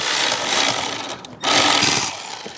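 A power ratchet spinning bolts into a 2700 PSI Troy Bilt pressure washer, a dense close buzzing whir in two bursts separated by a short pause.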